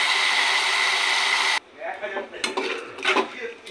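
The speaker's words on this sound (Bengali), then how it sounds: "মাছের ঝোল কষানো হয়ে গেছে" Fish curry being stirred and sautéed in a pan with cumin, ginger paste and papaya: a loud, steady sizzle for about a second and a half, then softer scraping and clinking of the spatula against the pan.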